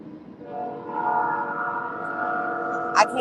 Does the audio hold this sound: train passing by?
yes